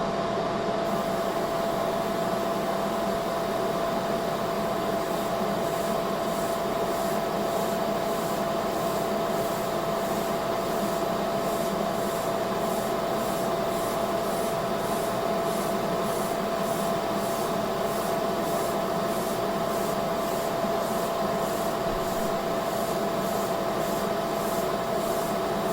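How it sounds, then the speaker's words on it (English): An airbrush sprays paint with a continuous, even hiss of air and a thin steady whine, constant and close for the whole stretch with no other sounds. "this is my very first airbrush"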